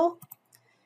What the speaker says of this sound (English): I'm left clicking.